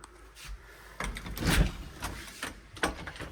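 A wobbly, damaged screen door rattles and knocks as it is moved in a house, giving a few scraping, clattering bumps over a few seconds.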